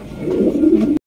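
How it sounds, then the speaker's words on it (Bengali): Big Lahori pigeons give a loud, close, low coo that rolls on for about a second and then cuts off abruptly. "লাহোরি কবুতর পাইতেছেন, দেখেন মাশাআল্লাহ পুতুল মতো দেখতে, একদম বিগ সাইজের কবুতর"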